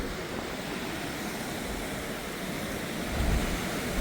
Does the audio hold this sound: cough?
no